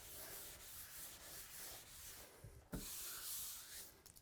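Close, steady rubbing of sandpaper across a wooden butcher block countertop, a continuous faint scratchy hiss with one brief sharper scrape partway through.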